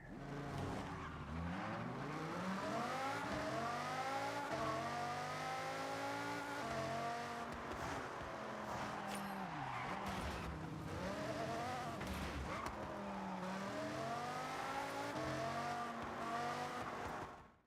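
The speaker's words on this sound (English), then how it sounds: "We have 700 brake horsepower underneath this car. Its engine is very capable and very good" A 700 brake horsepower car engine driving in Forza Horizon, revving up and down through repeated gear shifts with rising and falling pitch, steady and close, occasional tire noise, no voices.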